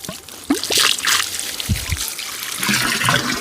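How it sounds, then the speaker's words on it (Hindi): Water runs from a pipe into a storage tank at a village water source in the hills, a continuous splashing trickle heard up close throughout, with no one speaking. "इतना पानी है, पानी का फ्लो।"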